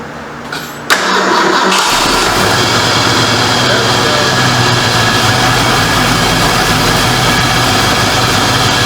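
A 1973 Ford Mustang Mach 1 with a carburetor cranks and fires about a second in, then settles into a loud, steady rumbling idle that carries to the end.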